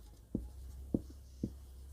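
A pen taps and scratches on paper during a Class 8 math lesson, three short, soft strokes spaced about half a second apart against a quiet low hum.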